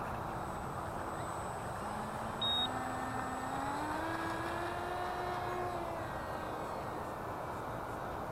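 An ICON A5 seaplane on wheels takes off in a flight video game, its engine droning steadily and then rising in pitch as throttle builds, with a brief beep partway through, moderately quiet.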